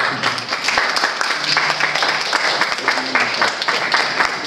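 Audience applauding a doctor at a Spanish-language gathering for recruiting volunteer helpers, with steady dense clapping throughout, moderately loud, and faint voices mixed underneath.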